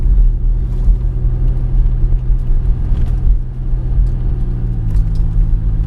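A 2005 car with a newly replaced GM 4T65-E automatic transmission climbing a steep incline, a steady close engine rumble that drops in pitch as it shifts near the end, with no talking.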